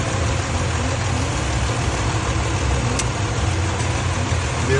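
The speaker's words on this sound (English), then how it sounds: "Vehicle's running." A Ford F-150 engine idles steadily nearby, a continuous low rumble with a constant drone and no speech over it.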